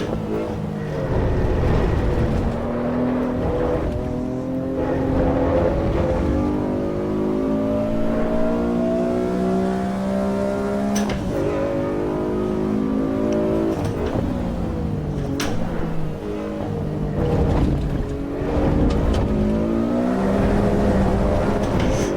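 Loud racing car engine in Assetto Corsa EVO sim, revving up and down through gears with rising pitch sweeps and shifts, continuous and close throughout.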